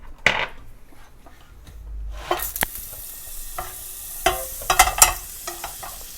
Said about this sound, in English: Melt the butter